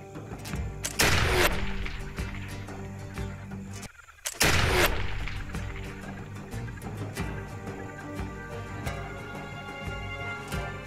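Two loud gunshot blasts in the video game Expeditions: Conquistador, each a booming crack with a rolling tail, a few seconds apart over a steady musical game background.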